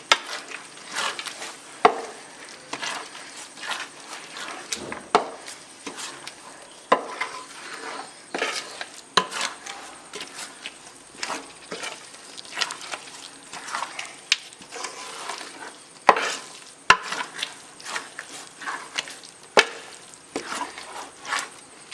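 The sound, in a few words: stirring aval with cashews and cardamom in pan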